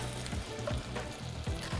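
Meatballs browning in a frying pan for a cannellini bean soup, with a steady close sizzle and spatter throughout and a few soft stirring or scraping knocks.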